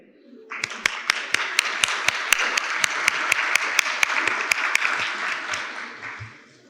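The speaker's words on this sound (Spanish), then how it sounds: "le damos un fuerte aplauso a Jairo Cervera" Audience applause for a speaker being welcomed at a Colombian Public Accountant's Day event on regulatory updates, a dense wash of clapping with sharper individual claps standing out, swelling quickly and fading at the end.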